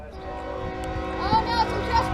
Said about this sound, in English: This train's coming out of the yard.